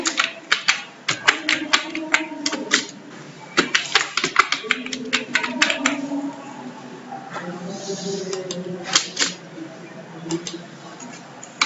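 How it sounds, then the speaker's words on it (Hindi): Rapid bursts of computer keyboard key presses while entering shortcut keys in Tally Prime accounting software, loud and close, clustered clicks with brief pauses and a faint voice underneath. "कीबोर्ड से हम प्रेस करेंगे।"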